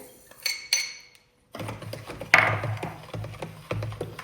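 Metal spoon stirring salt into a liter of water in a container while preparing a pork-trotter marinade, with scattered clinks and scraping taps against the vessel, close and moderately loud, with a brief pause early on.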